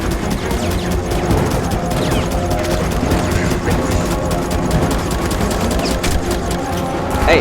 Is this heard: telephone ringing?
no